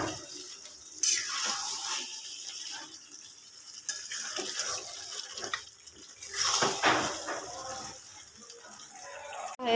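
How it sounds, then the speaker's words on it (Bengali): Water poured into a pot of meat and potato curry, a splashing, gurgling rush that swells and fades in several bursts, close and fairly loud with no talk. "আমি এর মধ্যে জল দিয়ে দিই।"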